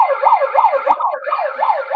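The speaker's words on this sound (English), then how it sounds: "Mine used to have like a siren." A megaphone siren wails in a fast, looping up-and-down sweep, loud and close, cycling about every half second with a brief break in the middle.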